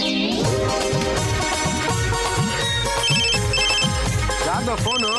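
A telephone at home rings with a loud, melodic electronic ringtone that repeats steadily and without a break for the whole stretch.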